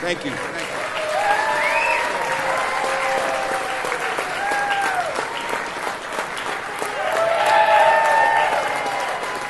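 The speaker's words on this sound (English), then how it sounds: "let's hear it from Big Round of Applause to Michael" Audience applause at the Improv comedy club for comedian Michael Foley, a sustained wash of clapping with cheers and whistles rising over it, swelling louder near the end.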